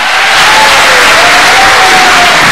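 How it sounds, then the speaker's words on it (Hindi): Studio audience on a Ramadan TV quiz show bursts into loud, dense applause with some cheering, a continuous wash of clapping close and full throughout. "बहुत सी तालियां बजाइए"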